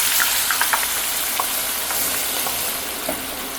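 Ingredients hit hot oil for a shrimp and fenugreek curry, giving a loud, continuous close sizzle with scattered pops and spits of splattering oil, no voices.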